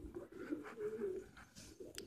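A pigeon with an eye ailment coos softly in low, throaty rolling phrases, quiet and close, with faint background noise and no speech.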